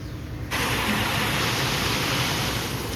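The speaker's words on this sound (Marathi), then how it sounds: "आमचं पाणी वाहतं बघा," Water flows continuously at a new-home construction site, a loud, steady broadband rush that cuts in abruptly after half a second and holds unchanged.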